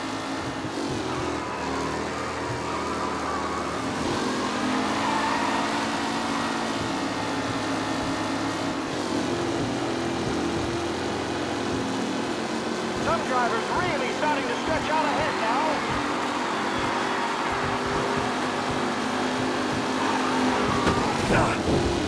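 Race cars in a close pack during a race in the video game Mafia, their engines droning and revving steadily near and loud throughout, with commentary voices over them.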